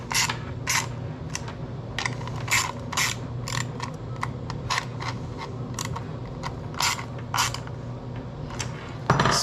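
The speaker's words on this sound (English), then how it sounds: "Ratchet." A ratchet wrench clicks in repeated bursts while bolts are tightened on a Rugged Radios intercom mount, sharp near ratcheting strokes over a steady low background hum, with no voices.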